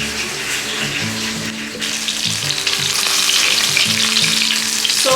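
Fish fries in a pan for Pampanga-style pucherong Kapampangan, a loud steady sizzle close up with bubbling and occasional stirring, no talk.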